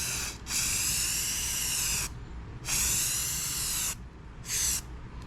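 Three bursts of spray paint hissing from an aerosol can onto a 1776 flag lock box, close and steady, each lasting about one to two seconds with short pauses between.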